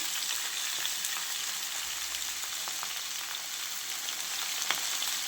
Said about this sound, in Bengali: সবজিগুলো একটু ভাজা করে নিই